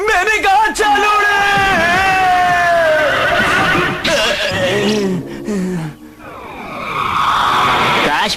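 A horse in a cartoon neighs loudly and close, a long wavering whinny that runs for several seconds. Shouts and other cartoon effects follow it, and a brief whooshing sweep closes out the scene.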